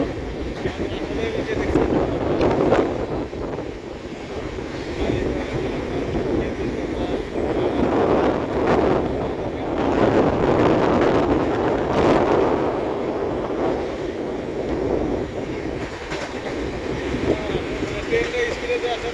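A train in Assam runs at speed, a continuous heavy rumble and rushing clatter heard from on board, loud and steady throughout, with someone talking over it.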